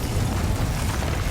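Confringo fire spell detonating in Hogwarts Legacy during a fight with a troll, a loud, continuous rumbling burst with heavy low-end boom filling the whole moment, no voices over it.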